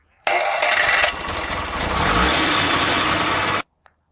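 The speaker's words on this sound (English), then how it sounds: "It's a 2-stroke engine" A 1962 Auto Union DKW 1000 S de Luxe's three-cylinder two-stroke engine cranks and catches, then runs with a loud, raspy buzzing idle for a few seconds before cutting off abruptly.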